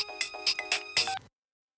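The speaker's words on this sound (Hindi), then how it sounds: "मुझे फोन आ रहा है" A short, bright electronic phone ringtone melody plays briefly, then cuts off into silence.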